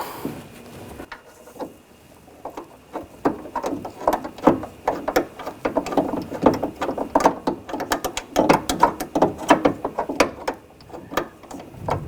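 A socket ratchet tightens the nuts on the front window motor of a 2000-2006 BMW X5, a run of quick, close metallic clicks that comes in bursts and grows busier after a quieter start.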